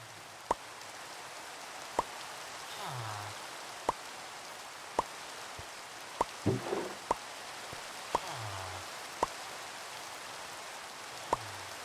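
Rain falls in Minecraft on an ATM9 Skyblock map, a soft steady patter with sharp, evenly spaced ticks roughly every two seconds and a few faint low whooshes between them.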